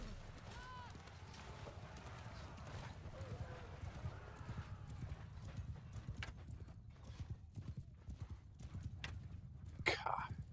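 Horse hooves gallop in Mount & Blade II: Bannerlord, a rapid, continuous clip-clop under a faint murmuring voice, with a sharp louder burst near the end.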